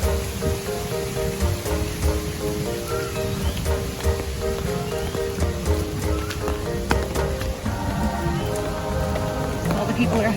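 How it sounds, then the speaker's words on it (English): Heavy rain pours steadily in the rainforest-themed area of Disney's Animal Kingdom park, a dense continuous hiss of drops on surfaces and umbrellas with patter and splashes, while faint background music plays underneath. "The rain's supposed to clear out later this morning, but it's pouring right now."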